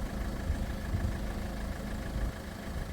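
A warm Peugeot 1.4 HDI diesel engine idles with a steady, low rumble that holds close and even throughout, with no voices over it.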